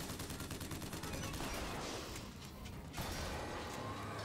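Rapid gunfire from a weapon in BioShock Infinite rattles off in a dense burst with mechanical clatter, pauses briefly, then resumes, loud and close with no talking.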